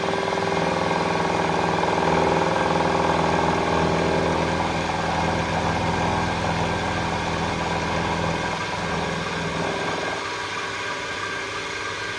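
A Harrison milling machine runs a 3 inch fly cutter, a steady mechanical hum and drone with a rotating, rhythmic texture that holds fairly loud throughout and eases slightly toward the end.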